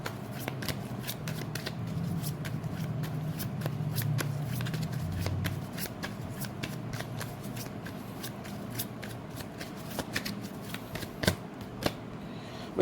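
A deck of tarot cards is shuffled close by in repeated quick riffles and soft slaps, with crisp ticks recurring rhythmically over a low background hum, and no speech.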